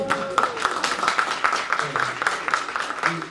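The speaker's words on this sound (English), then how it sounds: "Give them another round of applause" An audience clapping during a live stream, uneven applause with scattered individual claps, heard alongside voices and chatter, moderately loud throughout.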